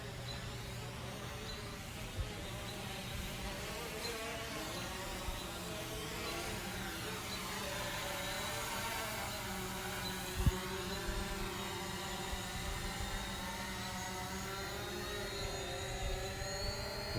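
Hubsan Zino drone descending to land, its rotors giving a steady, even whir that holds at a constant level throughout, with one brief knock partway through and no talking.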